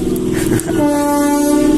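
A running train roars loudly close by with a sustained horn blast and rumbling wagons, with no one speaking.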